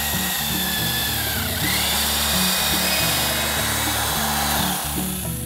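A power drill pre-drills wood, with a continuous whirring motor hum and a high whine that keeps going without a break.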